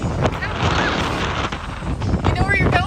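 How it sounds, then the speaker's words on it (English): Strong wind roars and buffets the microphone in a continuous rumble on a boat on the Great Loop waterway in Canada, with a voice briefly heard through the gusts. "Really windy. Like super windy."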